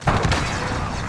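Two quick muffled pops of a smoke grenade being deployed in Call of Duty: Modern Warfare, followed by a hissing, rushing discharge that trails off, close and fairly loud.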